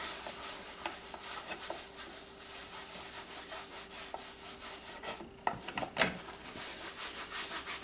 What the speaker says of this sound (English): You're just wiping it down with a little bit of soap